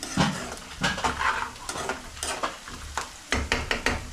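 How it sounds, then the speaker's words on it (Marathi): Steady sizzling of onions frying in a pan, with repeated scraping and stirring clicks from a utensil, close by and fairly quiet. "त्याच्या मस्त की कांद्याला फ्राय झालेला आहे"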